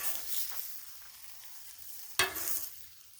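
Buttery Angus burgers sizzle steadily on a Blackstone griddle after being flipped, a sharp scrape or clatter cutting in near the end before the frying hiss carries on.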